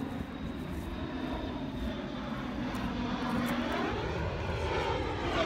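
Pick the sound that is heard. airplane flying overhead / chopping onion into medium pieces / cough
airplane flying overhead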